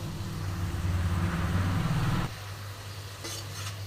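Crumbled fried lentil dumplings being stirred into bitter gourd and water spinach in a pan, a loud sizzle with scraping under it for about two seconds, then the frying quiets to a softer hiss.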